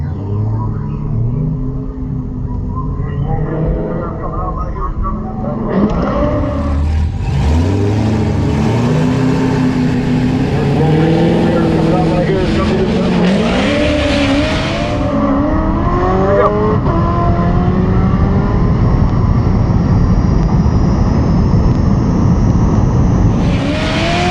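A Tesla Model S Plaid and a police car accelerate hard side by side in a quarter-mile roll race at over 150 mph. Loud, sustained engine roar and rising revving tones with gear shifts are joined by a surging whine and heavy wind noise.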